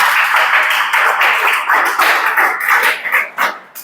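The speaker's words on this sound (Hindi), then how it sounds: "ताली बजाओ यूरेनियम डेटिंग के लिए" Students in a classroom clapping together, a loud run of hand claps in uneven bursts that thins into a few scattered claps near the end, with no speech over it.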